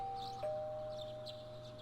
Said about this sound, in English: You hear the doorbells ringing.